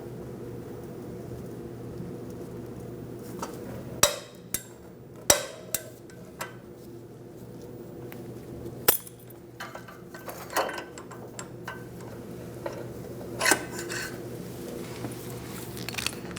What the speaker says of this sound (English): Once you get it snug, you can change it over to a torque wrench.